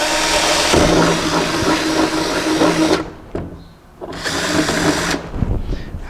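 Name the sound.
cordless battery drill drilling holes in concrete wall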